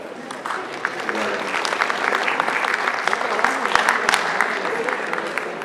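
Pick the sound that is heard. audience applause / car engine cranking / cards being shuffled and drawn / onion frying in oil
audience applause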